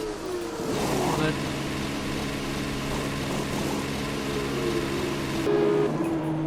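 An F1 car from F1 2021 pulls out of the pit box and heads down the pit lane, its engine a steady, sustained drone with shifting pitch throughout, fairly close and loud, a brief rise near the end.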